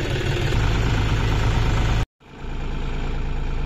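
A tractor engine idles close by with a steady, loud low throb, cutting out abruptly for a moment before the same running sound resumes.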